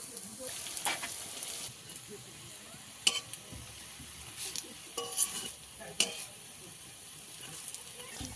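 Kulekhara leaf fritters frying in hot oil in a village-style kitchen, a steady low sizzle with scattered crackles and a few sharp spatula or utensil clicks throughout, no talk.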